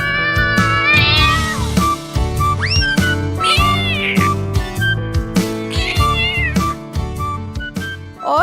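Cats in an animated story meow repeatedly, with several rising and falling cries over a steady musical backing, loud and close across the whole stretch.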